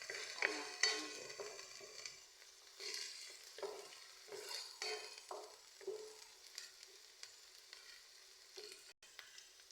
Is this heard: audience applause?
no